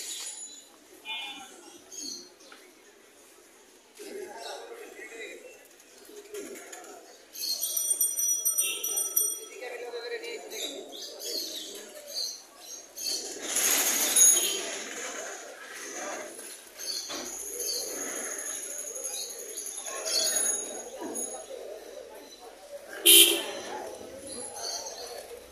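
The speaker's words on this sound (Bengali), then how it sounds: "আপনারা দেখছেন মিরপুরে এক কবুতরের হাট" Pigeons coo among the crowd at a busy pigeon market in Mirpur, Dhaka, their soft calls coming in and out under frequent chatter and bargaining voices.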